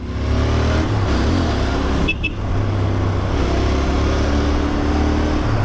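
Royal Enfield Interceptor 650 motorcycle accelerating hard, a loud continuous engine roar climbing through the revs with a brief dip at a gear change, recorded close to the rider.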